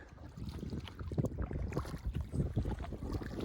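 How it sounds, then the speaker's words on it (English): Paddles dip and splash as a small boat moves across a little lake, soft irregular strokes under light wind noise, fairly quiet and close, with no talking. "Paddled around the bend. It's a nice little lake."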